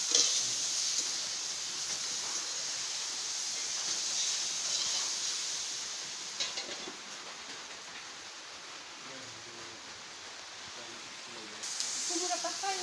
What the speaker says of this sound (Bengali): ফ্রাই হইতেছে।